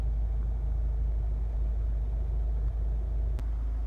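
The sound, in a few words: Honda CR-V 1.6 i-DTEC diesel engine idling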